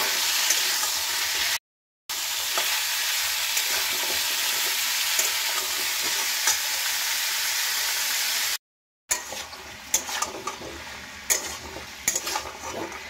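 Soaked chickpeas sizzle and fry steadily in a hot pan while being stirred, a dense continuous hiss with two brief gaps and sharper spatula scrapes and pops near the end; no one speaks.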